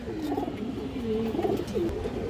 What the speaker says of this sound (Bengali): এবং এই যে মাঝের কবুতরটা দেখেন একদম সেম কালারের, সেম সাইজ